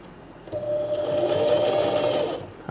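Sewing machine running steadily at a 3mm stitch length while stitching a small coin purse, a close, continuous mechanical whir lasting about two seconds after a brief start.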